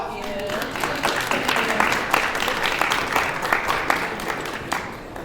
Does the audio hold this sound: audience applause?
yes